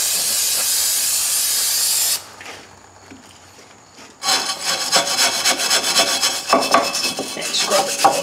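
A loud continuous aerosol hiss of brake parts cleaner sprays for a couple of seconds onto a 2000 Ford Focus rear drum brake, stops, then rough rubbing and scrubbing noises follow.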